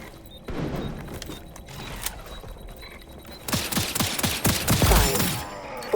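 Gunfire in the online shooter XDefiant, a pistol fired repeatedly in a burst of sharp, loud shots over busy game noise, with a dense volley and heavy thumps in the second half.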